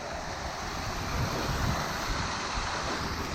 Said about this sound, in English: You can see how much water is going through.